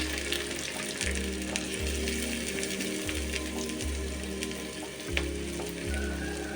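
Thinly sliced onion fries in a small pan of hot coconut oil, giving a dense, steady sizzle with some watery bubbling, close and unbroken, with no talking.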